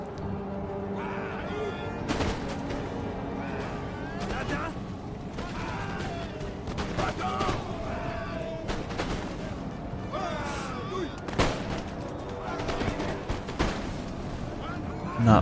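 Musket volleys crackle in Empire: Total War as line infantry of a Poland-Lithuania army fire in bursts, dense battlefield din with repeated sharp reports under a steady voice talking throughout.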